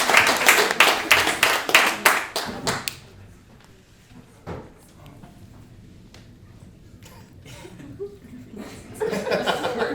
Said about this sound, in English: let's get started off with a big round of applause